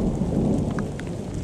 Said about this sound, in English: You hear all that thunder?